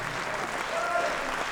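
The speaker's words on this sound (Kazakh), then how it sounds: "Екі ақынға бір қол шапалақтап көтеріп қойыңыздар." An audience claps for two poets after a male-female aitys song duel, a steady burst of applause filling the hall.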